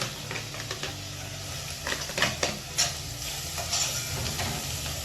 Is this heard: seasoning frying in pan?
yes